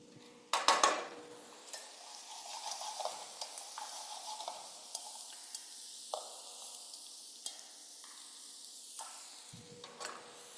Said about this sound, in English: onions are boiling, so I'm gonna go on a lower fire.